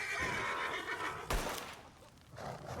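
A horse in a video game neighs in a loud whinny about midway through, standing alone against a steady background.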